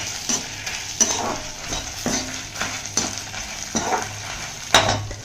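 Chana dal, fenugreek and red chillies dry roasting in a pan for kuzhambu powder, with a light crackle beneath repeated scraping stirs of a ladle at an uneven pace, close and clear, no talking.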